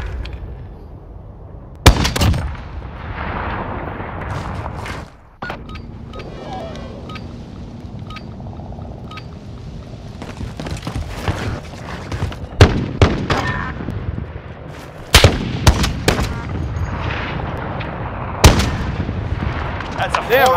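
Sniper rifle shots in a Call of Duty Modern Warfare snipers-only gunfight, several sharp loud cracks spaced irregularly with a pause mid-way and a tight cluster near the end, set against steady game ambience and wind.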